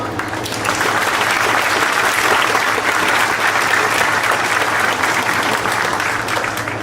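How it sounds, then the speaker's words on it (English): A crowd at a high school commencement ceremony gives a round of applause for the parents, a loud, even roar of clapping that swells in and carries steadily for several seconds. "If we could please give them a round of applause"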